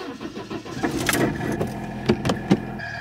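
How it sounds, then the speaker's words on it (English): A car engine is switched off, leaving a mid-pitched mechanical whir, a few clicks and sharp knocks over about three seconds, close and fairly loud with no talk. "You're about to hear the sound that my car makes when I switch it off."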